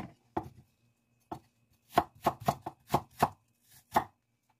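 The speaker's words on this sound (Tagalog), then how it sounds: "Slice lang yung apple guys, na maninipis na yung pahaba na yan" A knife slices an apple thinly for a salad, with scattered crisp cuts followed by a faster run of sharp chops against a cutting board, close and clear in a quiet room.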